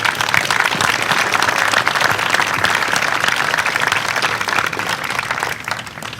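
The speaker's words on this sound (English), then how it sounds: "So I think each of the contractors deserve applause for the quality of work that they did." Audience applause for the building contractors at a nature center dedication, loud, dense clapping sustained throughout before easing slightly at the close.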